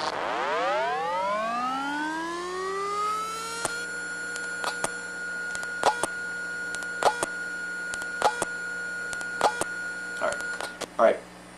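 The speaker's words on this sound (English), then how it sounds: "Those are the sounds of the actual read arm setting and resetting." Hard drive read arm heard through an electronics stethoscope: a rising whine as the platter spins up, then a string of sharp clicks and ticks at irregular intervals over a steady electronic hum.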